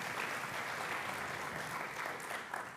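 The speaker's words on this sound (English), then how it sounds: "I want to just give a round of applause to everybody here" A conference keynote audience breaks into applause, a full, steady round of clapping that fills the hall for a few seconds before starting to fade.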